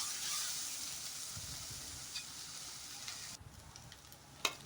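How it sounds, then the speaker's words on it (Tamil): Fenugreek seeds, onion and garlic frying in a pan for sardine curry, a steady close sizzle that softens near the end, with a single sharp clink of a utensil. "வெந்தயம், பெரிய வெங்காயம், பூண்டு 3 போட்டு நல்லா வதக்கிக்கணும்."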